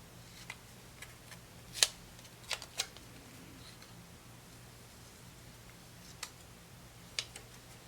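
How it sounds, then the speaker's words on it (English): Scissors snip a sticker into shape with sparse, quiet clicks, some single and some in quick pairs, spread unevenly over a steady low hum. "I'm gonna trim this sticker down though."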